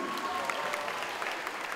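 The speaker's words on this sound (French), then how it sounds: "on l'applaudit aussi" Audience applause rings out at the final of a street dance show, a steady patter of clapping hands under a speaking voice.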